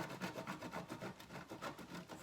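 Fresh Parmesan cheese rubbed against a grater in quick, rhythmic rasping strokes, close and fairly soft, with no voices.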